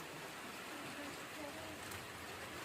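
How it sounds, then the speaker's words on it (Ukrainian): Steady rain falls outdoors in a village garden, a soft continuous hiss of drops with no clear breaks, fairly faint and even throughout. "Такий дощ іде."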